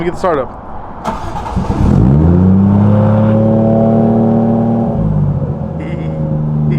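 A Toyota JZX90's engine cranks and starts with a loud turnover, then revs up and settles into a steady idle, close by, with a brief rev near the end.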